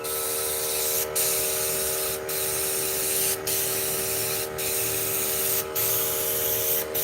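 Steady hiss from an aerosol can of Kilz spray paint, close and continuous, with heavy overspray, broken by about six short pauses at a roughly regular pace.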